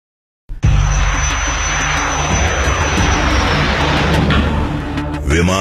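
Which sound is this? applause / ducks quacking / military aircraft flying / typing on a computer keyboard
military aircraft flying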